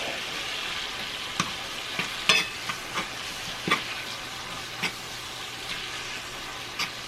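Ground beef stirred in a cast iron pan: a quiet, steady sizzle punctuated by several sharp scrapes and clinks of the utensil against the iron at irregular intervals.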